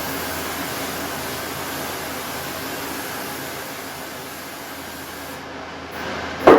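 A continuous hissing spray of cooking spray onto a pan runs steadily for several seconds, then cuts off, followed by a short clatter.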